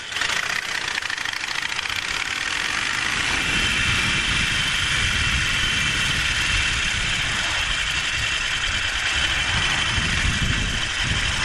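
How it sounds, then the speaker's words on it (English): A scooter engine idles nearby in an even, rattling putter that holds steady and moderately loud throughout, with no talking. "Scooter, bro."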